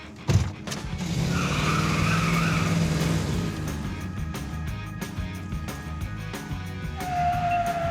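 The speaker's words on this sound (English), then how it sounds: "The guy in front of us just did a burnout." Truck doing a burnout at a dragstrip: loud sustained tire squeal and engine roar building after a sharp onset, holding steady for several seconds with a high whine entering near the end.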